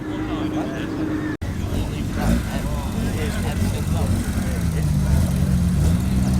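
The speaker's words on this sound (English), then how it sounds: "Mark II Golf also making its way in now." A Mark II Volkswagen Golf rolls into a breakfast car meet at the Royal Oak, a low engine rumble and tyre noise building gradually amid outdoor crowd murmur and nearby talking.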